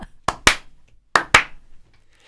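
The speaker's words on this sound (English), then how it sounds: "I think we need to slow clap New South Wales." Two pairs of sharp, deliberate hand claps, spaced slowly apart in a quiet room.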